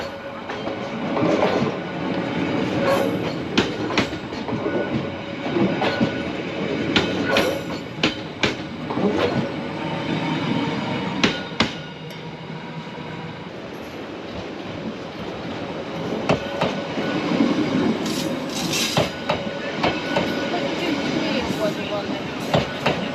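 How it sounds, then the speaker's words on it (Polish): A train on the Mipo–Songjeong scenic rail line in Busan rumbles past in a steady, continuous roar with rhythmic clicks, heard up close with wind, and voices faintly underneath. "Tuż za nami widać kolejkę relacji Mipo Songjong."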